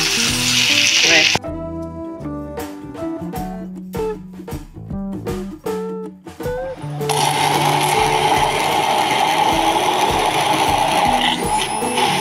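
Bell peppers frying in a pan give off a loud, steady sizzle that swells in the second half of the clip. Before that, music with instrumental notes plays over a quieter patch.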